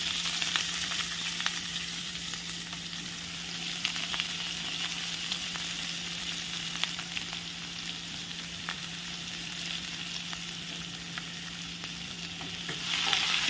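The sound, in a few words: chopped onion frying and sizzling in a pan with garlic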